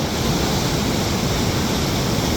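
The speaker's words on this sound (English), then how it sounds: "There's some wild and vicious waves out here." Rough ocean surf pounds a beach in a dense, continuous roar of crashing waves, loud and close with no voices.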